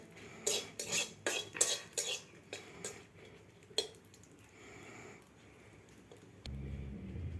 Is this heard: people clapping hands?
no